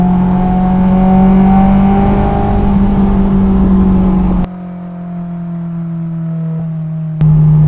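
A Honda S2000 fitted with an HKS Hi Power catback exhaust accelerates hard, its loud rising engine note climbing steadily before dropping sharply at a gear change and surging again near the end; no talking.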